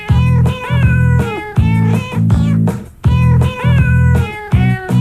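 A novelty song built from real cat meows pitched into a melody, playing over radio with steady backing music; meow after meow repeats in a bouncy rhythm, loud and close, with no talking.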